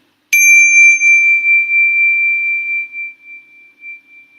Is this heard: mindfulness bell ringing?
yes